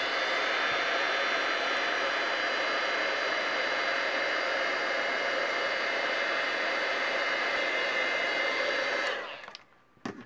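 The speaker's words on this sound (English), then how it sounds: "I'm gonna grab my heat tool and we are going to emboss this." A heat tool for embossing blows a steady, loud airy roar like a hair dryer for about nine seconds before switching off, close and with no talking.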